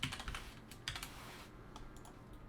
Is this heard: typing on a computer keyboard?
yes